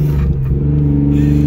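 A BMW E36 car idles and revs on a snowy road, a loud, steady low engine drone with a slight rise in pitch.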